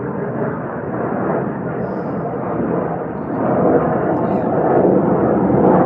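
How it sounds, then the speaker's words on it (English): A military jet plane flies high overhead, a loud, steady broadband roar that swells slightly louder toward the end and fills the whole stretch. "military plane that people keep talking about that flies around here. So goddamn loud for how high up it is."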